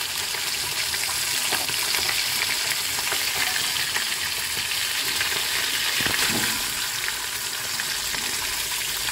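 Masala-coated pomfret fish frying in a pan, sea-beach style, gives a steady loud sizzle and crackle of hot oil that runs continuously, with a brief thud of the fish or utensil partway through.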